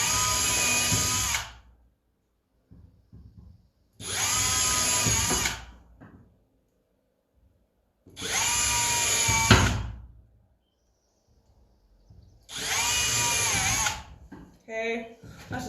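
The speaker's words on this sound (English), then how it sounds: "I set my bit so it's not drilling all the way into the other pieces" Cordless power drill boring holes into wood pieces for a DIY step stool, four loud whirring bursts of about two seconds each, separated by pauses with handling knocks.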